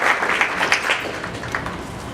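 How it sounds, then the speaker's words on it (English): Audience applause at a golf benefit dinner and gala with auction, a steady mid-level wash of clapping across the whole stretch with no voices on top. "how about another round of applause for Jason, Stacy, their staff"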